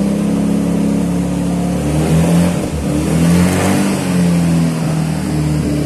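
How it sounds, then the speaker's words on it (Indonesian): Engine of a Suzuki Sidekick under repair nearby, revving in a steady mid-pitched rumble with slight rises and dips, loud and continuous with no talk. "suaranya ada itu juga, ada sidekick lagi dibenerin, lagi di prepare"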